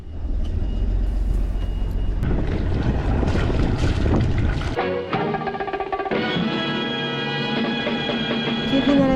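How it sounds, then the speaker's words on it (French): Sailboat engines starting at sea between Guadeloupe and Martinique, a steady broadband rumble under wind noise that shifts into a strong droning hum with clear harmonic tones after the engines catch. "Démarrage des moteurs."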